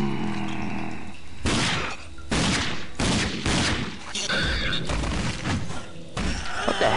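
Repeated heavy shotgun blasts boom in the video game RAGE, about a half dozen loud broadband bursts spaced roughly half a second to a second apart, with game sounds filling the gaps.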